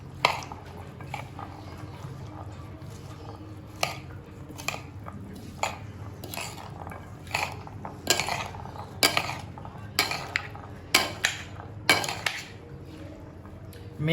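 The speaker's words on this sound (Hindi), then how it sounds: "दही को जो है ना हम अच्छी तरह से फेंट लेंगे, बिल्कुल ही सॉफ्ट और मुलायम कर लेंगे।" Yogurt is whisked in a bowl for chana chaat, giving close, irregular clinks and scrapes of a utensil against the bowl that grow busier and louder toward the end.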